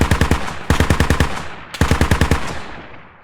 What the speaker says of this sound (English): GeForce is trying to shoot me when I'm behind the vehicle